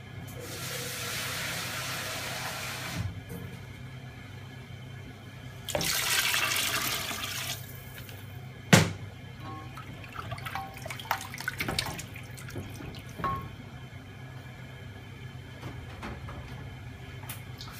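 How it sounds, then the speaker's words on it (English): A liter of water is poured into a cooking pot as a splashing, hissing stream in two bursts, followed by quieter drips and kitchen clatter, including one sharp knock. "add in another liter of water as well"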